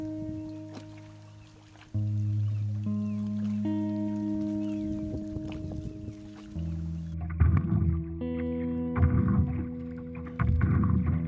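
A canoe is paddled on Lake Saimaa, with paddle strokes and water sloshing against the hull over a steady low hum, close and moderately loud, no talking.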